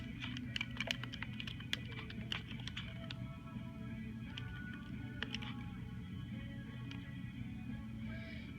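Fingers press a calculator keypad to enter data, producing a quick run of soft, close clicks that come in uneven bursts and then thin out to a few isolated taps over a steady low hum.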